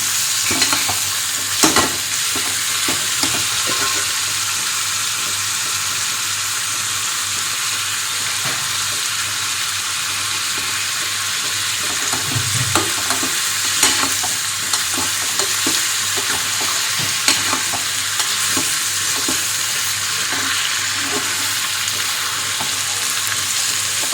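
Sizzling in a hot pan as ridge gourd peel is sautéed, with repeated scraping and stirring strokes, a steady frying hiss running throughout with intermittent clatter, no voices.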